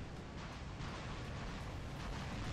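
Punisher gun firing in the War Robots video game: a dense, continuous roar of rapid shots forms an unbroken wash of noise at steady loudness with no clear gaps, and no voices are heard over it.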